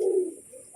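A single close pigeon coo, a short throaty rolling note that fades into quiet.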